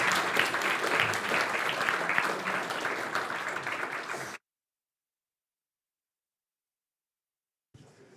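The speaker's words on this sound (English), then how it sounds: "Let's give a round of applause for Zach." Audience applause fills a conference lecture hall after a talk, a dense steady clapping for about four seconds that stops abruptly, followed by silence and a brief return of sound.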